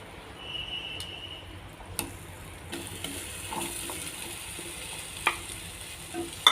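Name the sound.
banana pieces sautéing in melted butter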